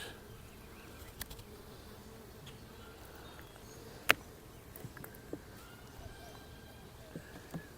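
Honey bees hum faintly around a beehive after a split, a quiet, steady drone with a few soft clicks and knocks scattered through it.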